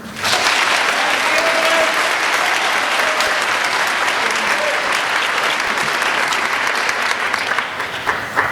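Warm, sustained applause from an audience at an honors reception congratulating a graduate, dense even clapping that carries on without pause for over eight seconds, fairly loud and close.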